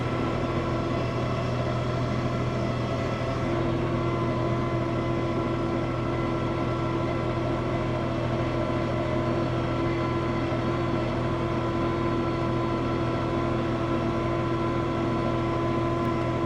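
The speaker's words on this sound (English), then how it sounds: "this tractor turns pretty tight even without them" A tractor makes a tight turn, its engine droning at a steady, unbroken hum with a strong low rumble and no pauses, close and fairly loud throughout.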